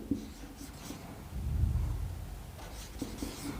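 Marker or chalk writing an example on a board, a steady scratchy rubbing of strokes close to the listener, with a brief denser stretch in the middle and no talking.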